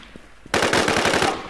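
Rapid automatic gunfire from the video game Infestation bursts in after a quiet moment, a loud, fast string of shots that keeps going to the end.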